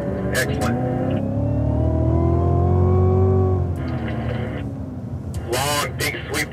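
A Cadillac accelerating on a race track, the engine climbing in a long rising drone before easing off, heard from inside the car while someone talks over it.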